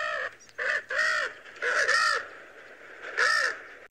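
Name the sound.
spoonbill call played from a bird app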